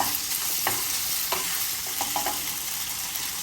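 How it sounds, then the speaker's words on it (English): Cornstarch-marinated pork stir-fries in a hot pan while a wooden spoon scrapes and turns it, a steady close sizzle with soft scraping strokes and a few brief knocks, no voices. "Make sure you use your wooden spoon scraping the bottom as you cook"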